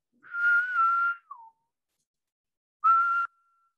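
Person whistling an imitation of the Magicicada septendecim periodical cicada mating call, a sustained steady tone that slides downward at the end, then after a pause a shorter repeat of the same note, clear and alone.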